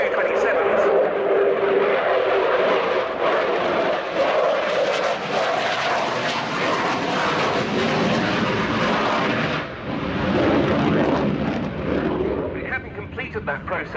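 A Ukrainian Air Force Sukhoi Su-27 fighter jet performs a flying display at the RIAT airshow, its engines giving a loud, continuous roar throughout with slight swells and dips as it passes, with crowd noise mixed in.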